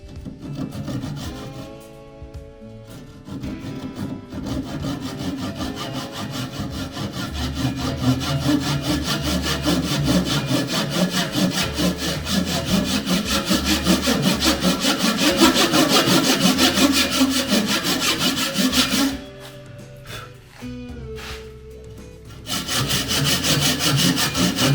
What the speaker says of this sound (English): so I just got done pull sawing that